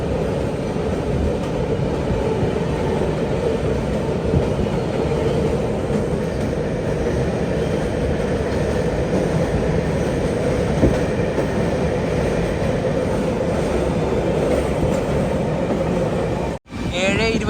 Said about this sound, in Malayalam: ട്രെയിൻ ഇതാ പയ്യന്നൂർ റെയിൽവേ സ്റ്റേഷനിലേക്ക് എത്തിക്കൊണ്ടിരിക്കുകയാണ്.